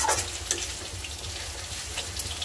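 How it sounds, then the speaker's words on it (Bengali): Steady oil sizzle of climbing perch frying in a pan, with crackling pops and bursts of spatter over a constant hiss. "আমি কই মাছ ভাজতেছি"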